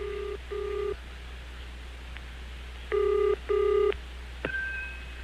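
A telephone rings in short electronic bursts: two brief rings, a pause, then two more, followed by a click and a faint tone.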